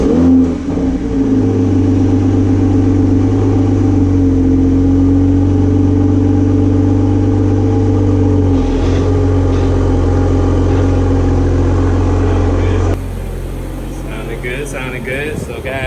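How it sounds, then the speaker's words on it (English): A 2020 Toyota Supra on its factory exhaust starts up and settles into a loud, steady idle rumble close by. After a brief blip the engine drops away and quieter clatter follows. "We're gonna see how the exhaust sounds factory"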